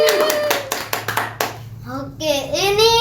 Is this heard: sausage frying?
no